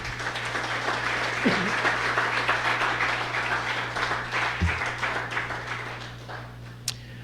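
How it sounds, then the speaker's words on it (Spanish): Sustained applause from a crowd, dense clapping that continues for several seconds before thinning out near the end, with a steady low hum underneath. "¿Por qué no le das un fuerte aplauso a él?"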